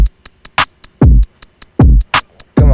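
Programmed drum beat processed with drum bus, glue compression, a frequency shifter and EQ, with punchy kicks and snappy hi-hats in a steady loop, loud and alone.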